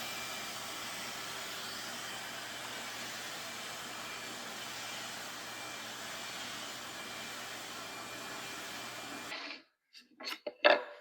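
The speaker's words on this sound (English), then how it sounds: "So I'm going to start beveling that with my sander." A power sander bevels a wooden rub rail for a boat with a steady, moderately loud whir. It cuts off abruptly near the end, followed by a few faint knocks.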